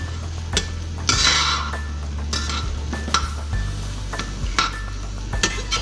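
An egg frying in a skillet with oil, giving a soft steady sizzle broken by repeated sharp clinks and scrapes of a utensil against the pan.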